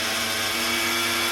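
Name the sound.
coffee grinder dry grinding roasted spices and desiccated coconut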